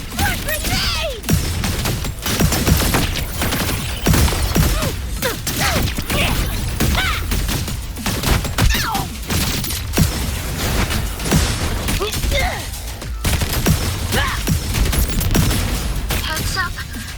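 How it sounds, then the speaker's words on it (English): Dense, continuous game combat from Wuthering Waves: rapid gunfire and repeated grenade blasts stacked over a busy battle mix, loud and close throughout with no pauses, and a voice occasionally talking over the din. "More grenades!"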